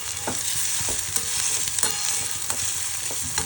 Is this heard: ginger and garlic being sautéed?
yes